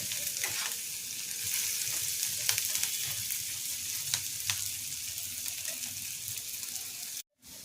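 Bengali torka dal tempering frying in a pan gives a steady, close sizzle with scattered crackles and pops. It runs unbroken for about seven seconds, then cuts to a brief silence.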